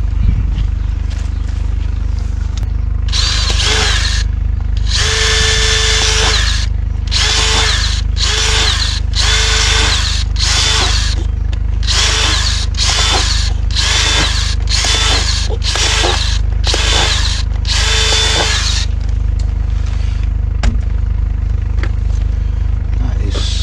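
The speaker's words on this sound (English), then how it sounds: "I'm going to quickly go get my battery drill and we'll put some in." Cordless battery drill boring drainage holes through a plastic plant pot tray in a vegetable garden, close and loud, in about a dozen separate whirring bursts of a few seconds each with short pauses between.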